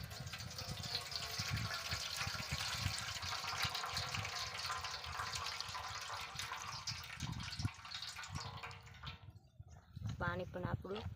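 Water splashes and pours as soaked chana dal is rinsed and drained in a kitchen, a continuous close wash of running water that stops near the end, with someone speaking.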